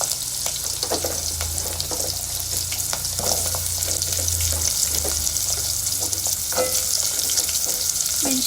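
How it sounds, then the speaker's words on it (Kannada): Garlic, onion and green chilli fry together in a pan with a loud, continuous close sizzle, broken by occasional spatula taps and scrapes. "ಮೆಣಸಿನ್ಕಾಯಿ ಇದಿಷ್ಟನ್ನು ಚೆನ್ನಾಗಿ ಫ್ರೈ ಮಾಡಿ."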